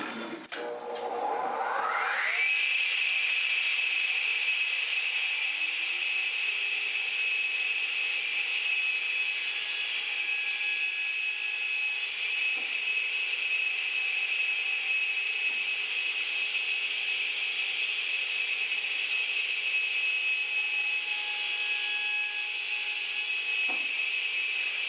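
A power saw spins up in a woodworking shop to cut a wooden nightstand leg to length against a stop block, rising quickly into a loud, steady high-pitched whine that holds unbroken for the rest of the time, with no talk.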